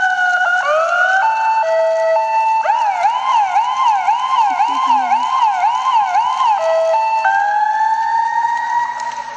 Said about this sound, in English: And when I blew my siren